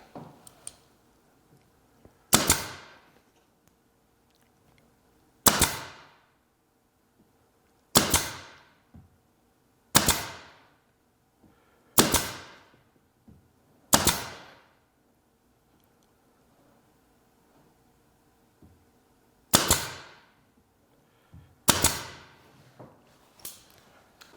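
Nine sharp, isolated taps ring out at irregular intervals as pins are driven into wooden catwalks on a 1-1/2 inch scale, 7.5 inch gauge wooden caboose, each tap close and crisp against near silence.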